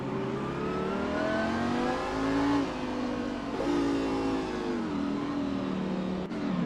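The number 42 Lamborghini Super Trofeo race car is on track at Long Beach, its engine droning loudly and steadily with rising and falling revs between shifts, heard close throughout.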